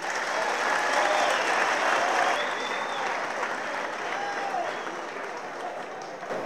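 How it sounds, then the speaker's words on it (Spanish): Loud, continuous applause from an assembled audience at a Ministry of Defence announcement, dense clapping holding steady throughout and tapering only slightly toward the end. "Eso no merece aplauso"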